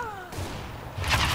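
Video game gunfire crackles in a steady burst of shots, fairly loud and continuous, with a brief tonal sweep at the start and a brighter burst near the end.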